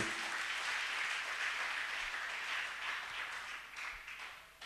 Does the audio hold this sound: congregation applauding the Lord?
yes